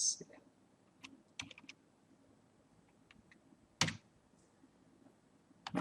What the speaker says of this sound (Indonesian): kita ketik class